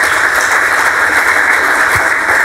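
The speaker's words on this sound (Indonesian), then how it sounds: "Kasih tepuk tangan untuk itu." A congregation at a Christian sermon breaks into loud, dense applause, a continuous close roar of many hands clapping at once with no talk over it.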